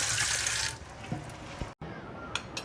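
Raw farm chicken pieces rinsed in water, with a brief rush of running water followed by quieter splashing and handling sounds close by.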